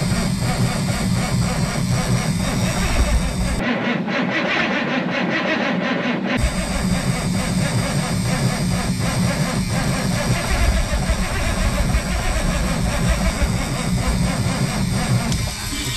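A diesel engine cranks over and over in -22F cold, a loud steady mechanical churning that never catches and runs, with a short quieter gap partway through.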